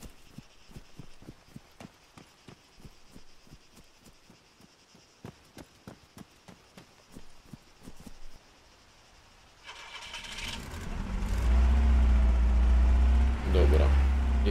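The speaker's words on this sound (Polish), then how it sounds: "Dobra, jedziemy ciężarówką sobie." A truck engine in the game Arma III starts up and settles into a loud, deep rumble after a stretch of rhythmic clicking and faint background noise.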